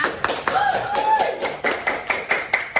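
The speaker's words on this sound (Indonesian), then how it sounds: "Tepuk tangan dong semuanya." A classroom of students clapping after a group presentation, a loose scattering of hand claps and taps at close range over an ongoing voice and room chatter.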